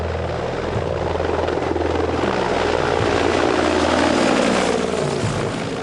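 A Mi-24 Hind attack helicopter, the Soviet-built gunship, flies overhead with a loud, steady rotor and turbine roar that holds at an even level throughout.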